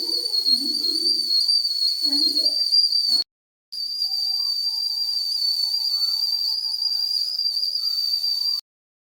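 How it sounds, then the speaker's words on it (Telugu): A small milk cooker heating on a stovetop lets steam out through its valve in a shrill, steady, high whistle. It sounds in two long, loud bursts separated by a brief break, with no talking. "స్టవ్ మీద పాలు వేడెక్కి ఆవిరి వాల్వ్కి వస్తుంది. అప్పుడు వాల్వ్ నుండి మనకు విజిల్ వస్తుంది."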